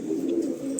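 Pigeons, Yemeni dots, cooing in a loft, a low steady murmur of overlapping coos close by, with a brief higher flutter near the end.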